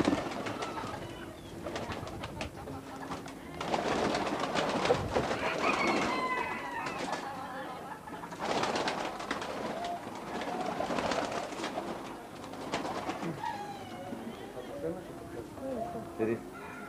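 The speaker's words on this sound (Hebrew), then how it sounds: "זה נקרא יונת אריה או יונת פיה." Fancy lion or fairy pigeon held in a yard, with soft repeated coos and bird calls mixed under ongoing conversation between two people, moderately close.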